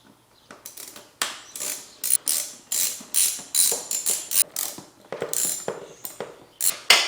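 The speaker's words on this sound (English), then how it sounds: "Now I'm going to loosen up the throttle body clamps." A tool ratchets in repeated clicking strokes while loosening the throttle body clamps on a Suzuki GSX-S750Z motorcycle, each pull a close rasping burst with short gaps between, no talking.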